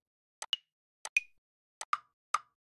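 Four short pairs of plucky, plopping percussion hits from an Amapiano drum sample in FL Studio, each a quick tick followed by a brighter tonal pop, evenly spaced and isolated.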